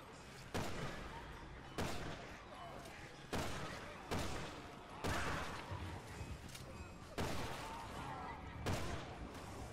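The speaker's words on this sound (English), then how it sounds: "And I'm shooting zombies before they come out." Gunfire against zombies in Resident Evil 6: loud, sharp shots repeat at irregular intervals of roughly a second or two, each a broadband crack, with game noise and voices underneath between the bursts.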